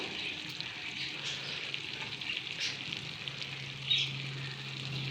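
Fesha fish frying in oil in a pan, a steady close sizzle with a soft bubbling hiss that holds through the whole stretch, plus one brief louder spit near the end and no talk over it.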